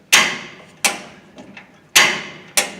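A gas grill burner valve's igniter snaps four sharp clicks in an uneven rhythm, loud and close, with faint ticking between them and no talking.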